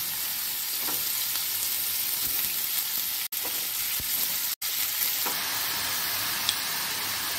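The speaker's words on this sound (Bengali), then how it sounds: "এখন এই তেলের মধ্যেই লাউটা দিয়ে দেব।" Bottle gourd fries in hot oil with a dense, steady sizzling hiss and a few soft stirring knocks, uninterrupted apart from two tiny dropouts.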